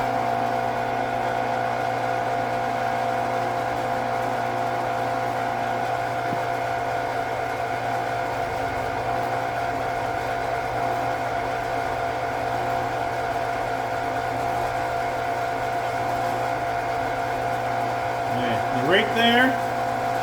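An engine runs steadily with a constant droning hum and strong tonal whine throughout, ending in a brief rising mechanical sweep near the close; no voices are heard.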